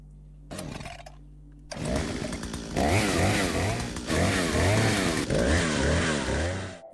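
Chainsaw in the horror video game Mama's Sleeping Angels: a short sputter, then the motor catches and revs loudly in repeated rising and falling surges, sounding up close.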